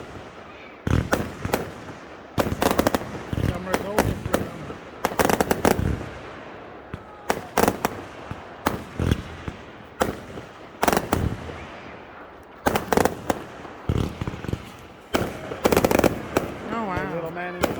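Street fair fireworks at an end-of-summer celebration on a reservation go off in rapid crackling volleys and loud bangs, bursts repeating every second or two, with people talking between them.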